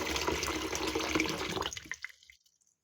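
Tap water pouring from a faucet into a jar for fermenting apples, a steady close splashing rush that stops abruptly near the end.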